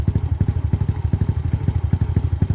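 A modified car's engine runs with a fast, lumpy, pulsing exhaust note, loud and close, throbbing rhythmically in a steady rough idle without any voices.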